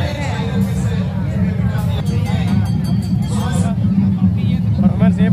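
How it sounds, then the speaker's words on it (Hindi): Loud, dense crowd hubbub fills a busy fair during the Johar Nite 2022 award show, a steady wash of overlapping voices and babble running throughout with traffic-like rumble beneath. "इधर बहुत भीड़ है, मेला लगा हुआ है।"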